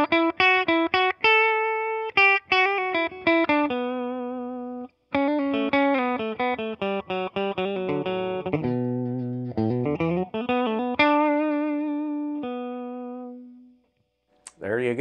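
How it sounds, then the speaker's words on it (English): A Westcreek Racer offset SG-style electric guitar played clean into a 1968 Deluxe Reverb amp with a touch of reverb: a run of plucked single notes and short melodic phrases, some sustained and bending, close and clear with a brief pause near the end. "that was clean into the 68 Deluxe Reverb with just a dash of reverb."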